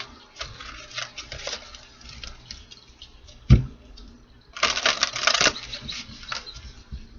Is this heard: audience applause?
no